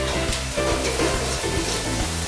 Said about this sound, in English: For today, we are frying the baby marrow